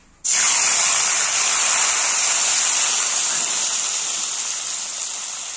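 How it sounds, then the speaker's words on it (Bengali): Onion paste hits hot oil in a pan for Bengali doi chingri, bursting into a loud, steady sizzle that starts abruptly and holds strong, easing only slightly over several seconds, with no talking. "কিছুক্ষণ নাড়াচাড়া করার পর এটাতে দিয়ে দিতে হবে পেঁয়াজ বাটা"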